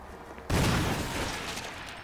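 A sudden loud blast of video game gunfire in Resident Evil HD Remaster erupts after a brief quiet moment, followed by a sustained noisy rumble that slowly tapers off.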